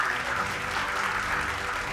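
A dense, continuous wash of audience clapping for Lakshyaraj Singh Mewar at a News 18 stage event, close and steady throughout.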